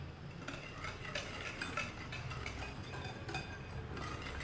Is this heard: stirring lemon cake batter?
yes